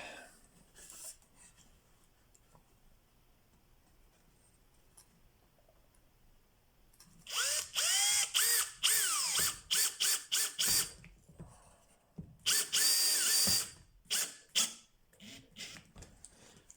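A power drill drives a screw into wood without a pilot hole: after a quiet lead-in, loud bursts of whirring and grinding come in short pulses and stops, near and with no talking.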